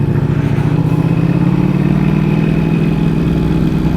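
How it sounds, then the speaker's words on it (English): A sport motorcycle, a Ducati V4S or BMW S1000RR, idles close by with a steady, low, throbbing engine note and a faint mechanical clatter, holding an even level throughout without talk. "Listen to that thing idling."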